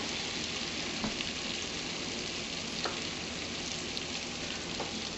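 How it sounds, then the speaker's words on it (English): Dried spices frying in a pan as the base of a homemade tomato sauce, a continuous dense sizzle with a few faint clicks, steady and close throughout. "get all the spices good and cooking first"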